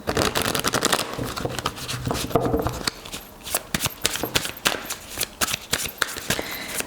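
A Sambolon oracle card deck being shuffled by hand for a love reading, with a dense, continuous riffle of cards that breaks into quick, crisp separate flicks partway through; close and fairly quiet, with no speech.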